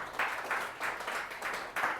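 A classroom of students applauds, a quick burst of several rhythmic waves of clapping, moderately loud and close.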